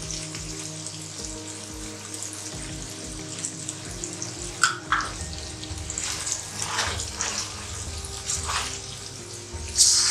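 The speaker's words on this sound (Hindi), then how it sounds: "थोड़ा थोड़ा पानी ऐड करते हैं।" Black gram dal with ginger frying in a pan as water is added, soft sizzling and watery pouring sounds with occasional sharper splashes, close and fairly quiet.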